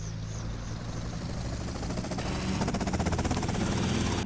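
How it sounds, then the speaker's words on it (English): Helicopter in GTA: Vice City, a steady rotor and engine drone that grows slightly louder and gains a faint rhythmic chop toward the end. "Yeah, let's take the helicopter."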